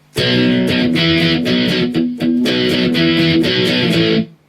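A distorted electric guitar plays the intro riff of a song, loud, choppy palm-muted chords in a driving rhythm with brief gaps, played alone for about four seconds.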